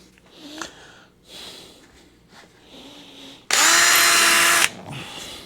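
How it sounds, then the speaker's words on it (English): A power drill with a slightly larger bit whirs loudly for about a second while making a custom door panel for a C10 truck, a single steady burst of high-pitched motor noise after quieter rustling and handling sounds. "need a little bit bigger drill bit"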